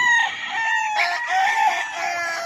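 A grey stag rooster crows close by, a single loud, harmonically rich call that stretches over two seconds with a wavering pitch and stands alone.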